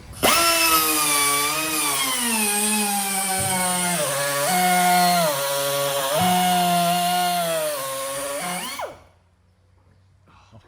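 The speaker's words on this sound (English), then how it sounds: "Yeah, you just gotta pop those little screws out there." A power tool whines loudly and steadily for about nine seconds while backing screws out of a car grille on a Terminator Mustang SVT Cobra, its pitch dipping and rising under load before stopping abruptly.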